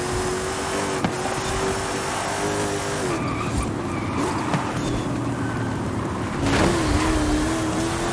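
A tuned car skids through a tight high-speed turn in Forza Horizon 5, tires squealing in a sustained whine over steady engine noise, with a couple of sharp knocks and a second squeal near the end.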